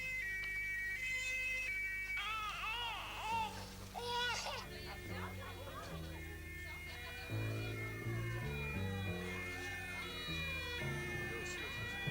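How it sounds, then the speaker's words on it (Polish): An ambulance siren wails with rising and falling sweeps as the emergency vehicle arrives, heard in two stretches amid a busy mix of other sounds, in a 1986 Polish television crime report. "przyjeżdża pogotowie ratunkowe."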